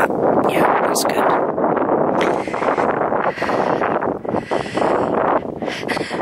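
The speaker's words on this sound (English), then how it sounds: "Now, it's quite windy." Wind buffets the microphone in a steady rumbling roar on an exposed hillside walk on Longstone Hill, with faint rustling underneath throughout.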